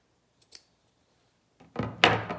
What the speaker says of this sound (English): clip in right at the top of the pocket. Do not clip into your stitching line, okay? So I'm going to show you that. I'm just cutting.